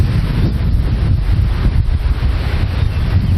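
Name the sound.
strong gusty wind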